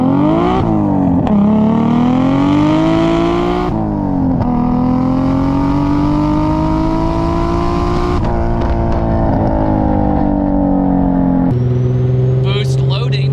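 Lexus IS300 with a swapped 2JZ engine and boost, a loud close engine holding a steady droning note with gear-like pitch shifts and rising revs.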